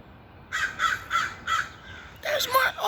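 Crows being fed caw loudly at close range, about five evenly spaced harsh calls followed by a quick overlapping burst from several birds, over faint outdoor background.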